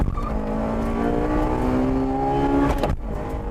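A Honda Integra Type R racing a 2-liter turbocharged 220 horsepower Nissan Silvia over a quarter mile, with a loud high-revving engine climbing steadily in pitch, then a sharp cut as it shifts gear.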